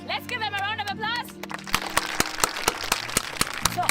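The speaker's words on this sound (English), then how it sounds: "let's give them a round of applause." A round of applause breaks out during a live reaction stream, with people talking over it first before the clapping settles into a sparse, uneven run of separate claps.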